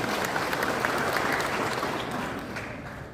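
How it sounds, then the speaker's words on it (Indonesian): Audience applause fills the space at a political volunteer rally in Indonesia, a dense, steady clapping from a large crowd that gradually tapers toward the end. "Tepuk tangan untuk Ketua Ormas."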